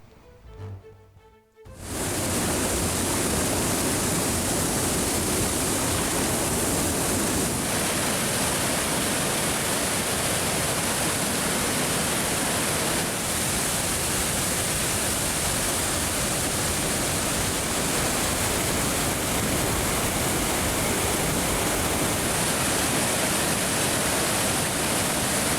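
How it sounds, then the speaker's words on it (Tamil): The Manimuthar waterfall in Ambasamudram, Tirunelveli district, flooding after continuous rain, gives a loud, steady roar of rushing water. It rises abruptly after a brief quiet opening and then holds constant, with no voices. "தொடர் மழையால் நெல்லை மாவட்டம் அம்பையில் உள்ள மணிமுத்தாறு அருவியில் கடும் வெள்ளப்பெருக்கு."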